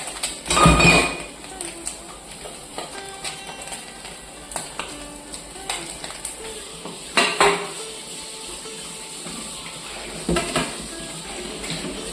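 Kitchen utensils being scrubbed and washed, with a loud clatter of pots and pans at the start, then scattered clinks, scraping and metallic knocks near the sink.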